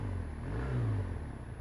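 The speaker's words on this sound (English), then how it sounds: "Definitely got a nicer engine note than my version." BMW R1200R motorcycle, a 2015 model, with its engine droning steadily at a low pitch while being ridden, swelling slightly mid-way as the revs rise, close and continuous with no talk.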